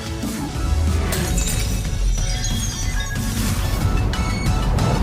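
A loud, sustained crash and shatter from an anime fight scene as a magical shield breaks apart, with dense glassy fragments and heavy impacts filling the whole stretch.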